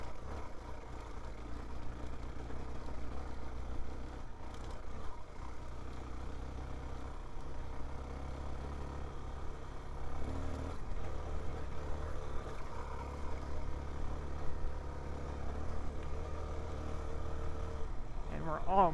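A Suzuki DR-Z4S motorcycle climbs a hard-packed hill in third gear, its engine a steady mid-pitched drone that holds throughout with slight rises in effort, a rider's voice intermittently heard over it.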